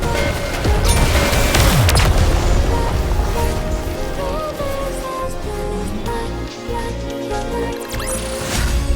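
A volley of gunfire in the Nikke video game, with dense bursts and booms crashing together loudly and continuously over a game soundtrack.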